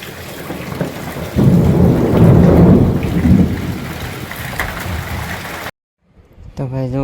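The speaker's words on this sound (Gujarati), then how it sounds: "તો ભાઈ જુઓ ધમધોકાર વરસાદ ચાલુ થઈ ગયો છે." Heavy monsoon rain pours down steadily with a deep rolling rumble of thunder swelling early on. The downpour drops out briefly before a voice begins speaking.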